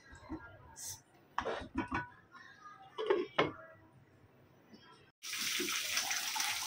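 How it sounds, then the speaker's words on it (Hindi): Water is poured from a glass into a cooking pot of Kokani-style black-eyed pea curry. Near the end it streams in one loud, steady splash, after scattered clinks and handling noises. "अभी इसको आधा गिलास पानी डालें।"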